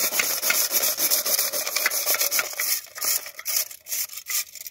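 A wood stove chimney pipe is scrubbed clean with rough, rapid rasping strokes, close and fairly loud, in an irregular back-and-forth rhythm with no talking.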